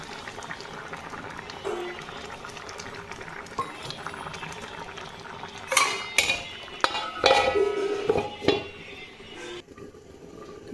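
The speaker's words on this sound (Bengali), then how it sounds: "দেখো সুন্দর ফুটছে" Pea ghugni made with coconut bubbling in a covered pot on the stove: a soft, steady simmer, with louder bursts of bubbling and lid or pot clatter toward the end, heard up close without talk.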